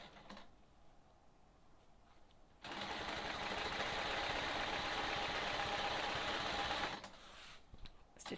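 A sewing machine runs steadily for about four seconds, stitching in the ditch along the seams of a Sawtooth Star quilt block, its fast needle whir loud and close, with quiet handling sounds before and after.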